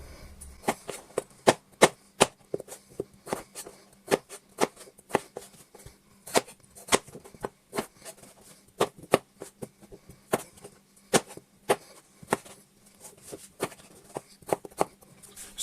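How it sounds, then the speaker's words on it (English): A knife cubes potatoes on a chopping board, a long run of sharp close chops in quick, slightly uneven rhythm against the board, steady and alone. "And now we'll cube these up."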